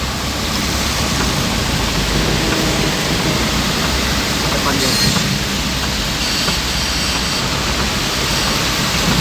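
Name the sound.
heavy rain on the Bekasi toll road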